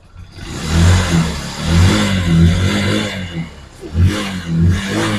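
A Honda TMX Supremo motorcycle engine with a poorly adjusted airscrew, prone to dying on throttle and hard to start, revs hard in repeated close, loud surges that drop back between blips, with no talking.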